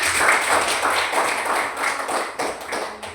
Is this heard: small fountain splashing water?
no